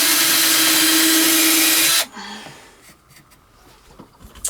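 A power drill bores holes in the base of a homemade blending hackle for fiber, with a loud steady whine for about two seconds. It then stops abruptly, leaving quiet handling clatter.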